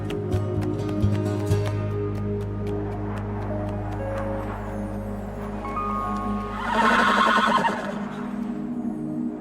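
A horse neighs in a loud, drawn-out whinny near the end, set against a steady low hum and faint ticking, with no voices.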